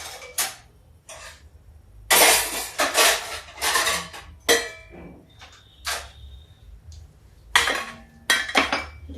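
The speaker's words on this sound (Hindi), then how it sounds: "मैं चाय छान लेती हूँ" Metal utensils clinking and clanging in bursts while tea is strained in a home kitchen, sharp close knocks and scrapes with a couple of bright ringing dings between quieter gaps; no talking.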